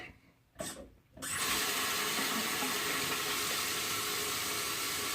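Water pours steadily from a tap during a wet shave with a Feather blade, starting after a couple of brief splashes and then running continuously and fairly loud.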